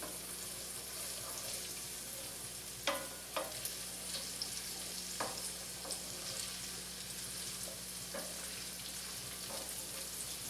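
Garlic and tomatoes sizzle steadily in a pan while being stirred, a constant hiss broken by a few sharp scraping knocks of the utensil, with no voices.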